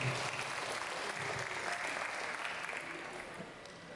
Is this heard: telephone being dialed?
no